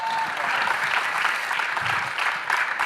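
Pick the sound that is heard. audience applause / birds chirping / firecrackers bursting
audience applause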